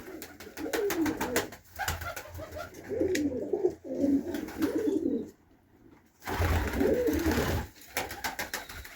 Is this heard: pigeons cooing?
yes